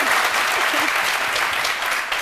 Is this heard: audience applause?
yes